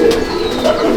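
Malwai racing pigeons coo in a loft, a soft, steady run of low throaty calls filling the second with little pause, close and fairly loud.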